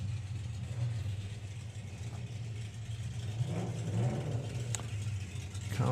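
Volvo drag racing car engine idling with a low, steady rumble at a drag strip, building slightly in a few light revs, moderately distant.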